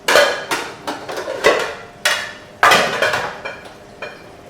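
Guanciale being cut into big cubes on a board, a knife striking the wood in sharp, irregular chops, some single and some in quick clusters, close and fairly loud, no talking.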